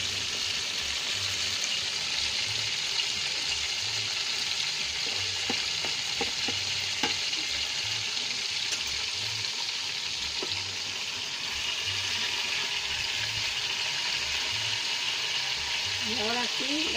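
Chicken fries in green sauce with cilantro sprigs, giving a steady, continuous sizzle in the pan, with occasional stirring clinks and faint background voices.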